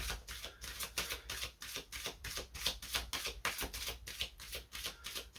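Tarot cards are shuffled and drawn in a faint, rhythmic series of crisp riffling taps that repeat at a steady pace.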